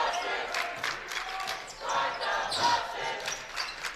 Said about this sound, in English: As you can hear the chant from the crowd.